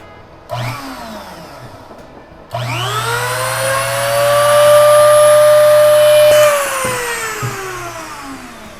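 A homemade CNC router spindle switches on, winds up to a steady high whine and then spins down, with a brief start-stop before it and a low machine hum beneath.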